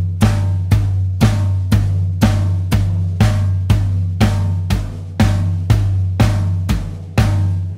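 Drum groove with steady evenly spaced beats and the backbeat on 2 and 4, played alone, loud and close for about eight seconds.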